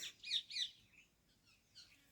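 A juvenile or female Asian koel gives two close, bright calls in quick succession, followed by fainter, softer call fragments, heard alone without talk.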